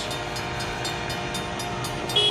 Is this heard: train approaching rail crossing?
yes